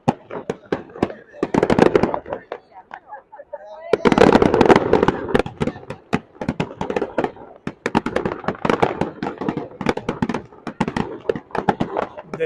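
Fireworks burst on US Independence Day by a riverside in America, with rapid crackling volleys and popping clusters in loud uneven waves and a short lull between bursts.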